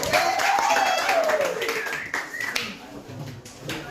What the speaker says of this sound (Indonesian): berikan dulu aplaus kepada anggota